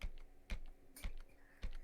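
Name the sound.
tapping on a computer keyboard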